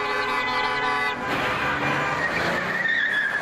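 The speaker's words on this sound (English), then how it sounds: "Rush hour traffic can be bad enough in Center City" Loud city street traffic at rush hour in Center City at an intersection with a dead streetlight, cars passing close by and car horns honking toward the end, with no talking.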